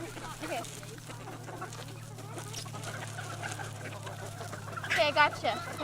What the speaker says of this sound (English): You want to see a chicken fight?